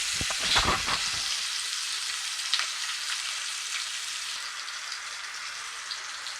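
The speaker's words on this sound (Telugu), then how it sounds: "నిలువుగా చీల్చుకున్నటువంటి ఐదారు పచ్చిమిర్చి వేసి కలుపుకోవాలి అలాగా కొద్దిగా ఫ్రై అయిన ఇవి" Slit green chillies frying in a pan for Telangana bagara or Andhra pulao rice, a few stirring clinks at first, then a soft, even sizzle that holds steady.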